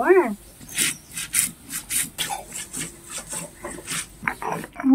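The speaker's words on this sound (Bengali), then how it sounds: "এখন ধনিয়া জিরাটা আমি বেটে নেব" Coriander and cumin being ground on a grinding stone make rhythmic, repeated scraping and rubbing strokes, close and uneven, with a brief voice at the start and end.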